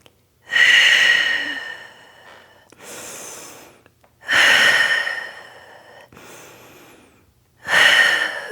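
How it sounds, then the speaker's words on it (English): Three deep, audible breaths during a seated Pilates exercise, each a strong, close inhale that tails off into a softer, longer exhale, evenly spaced with quiet gaps between. "Take 3 breaths."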